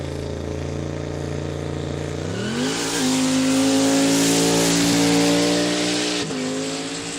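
Car at a quick street drag day launching hard with heavy wheelspin, a loud rising engine roar that climbs in pitch and holds high with tyre squeal, heard from nearby.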